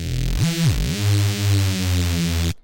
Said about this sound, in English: Next effect is a chorus. This is actually used to create more stereo width.